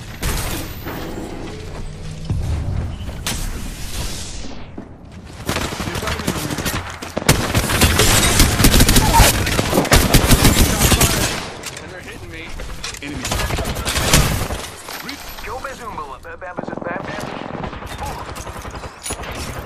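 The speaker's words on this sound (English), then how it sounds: "Getting shot at." Video game gunfire crackles in dense, rapid bursts amid mechanical clanks and rattles, loud and close. Between the volleys there are shorter pauses, and a voice speaks over parts of the action.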